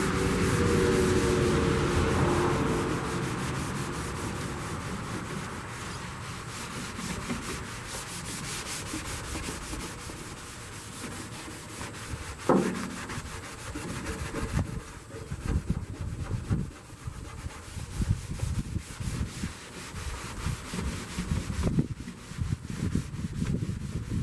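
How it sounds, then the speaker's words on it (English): Black Raptor liner coating being scuffed by hand sanding over a rusted surface, a steady rasping rub that continues throughout at close range, with occasional louder strokes and some wind noise. "I'm not going to scuff this black a whole lot."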